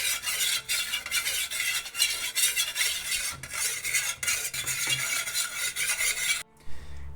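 Melted paraffin wax for candles is stirred in a pot off the heat, making continuous scraping and swishing with occasional metallic clinks, close and steady, before ending abruptly.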